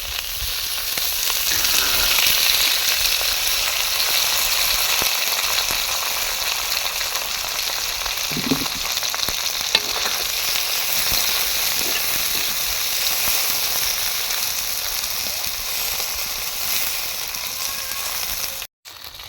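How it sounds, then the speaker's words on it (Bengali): Onion and taki fish fry together in a pan with a loud, steady sizzle that lasts the whole time, broken by occasional scraping stirs up close. No one speaks. "পেঁয়াজ এবং মাছ সহ আবারও ভাজবে ভালো করে"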